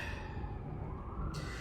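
Emergency sirens wailing in the distance, a faint steady rising tone under low background rumble, with no talk.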